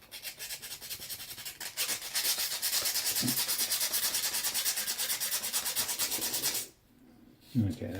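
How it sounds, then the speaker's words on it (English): Sandpaper scrubs rust off a metal surface in a long, steady rasping rub that runs for several seconds up close, then breaks off into a brief quiet and a small knock. "Just got to sand it off, get all that rust off of it"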